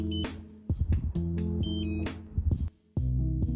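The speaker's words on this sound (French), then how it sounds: "Ce que vous venez d'entendre est le bip de repère." A steady electronic satellite finder reference beep sounds in short bursts while aligning a dish, with brief gaps and a louder broadband swell, close and fairly clear with no talking.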